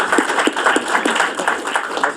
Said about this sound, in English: Round of applause for all of them for joining today.